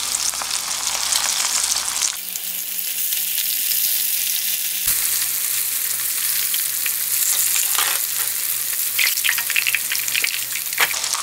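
Dense, crackling sizzle of pork tenderloin and loin deep frying in hot oil for sweet and sour pork, continuous and close, with occasional stirring sounds and a faint low hum.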